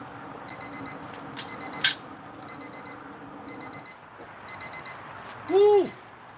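Kitchen timer alarm ringing in repeated short bursts of bright beeping, fairly close, with music and a voice in the background and a louder whoop near the end.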